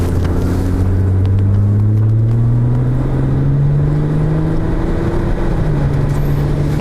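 An Audi A6 C6 engine heard from inside the cabin while driving at about 65 under light throttle, a loud steady low drone with a slowly rising engine tone.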